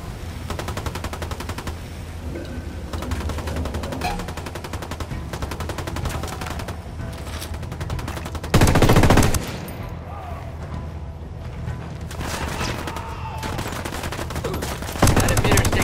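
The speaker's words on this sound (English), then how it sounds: "Shooting." Sustained automatic gunfire in a Ghost Recon Wildlands firefight, made of dense rapid bursts that rattle on almost without pause and include two louder, heavier blasts partway through, with no speech heard.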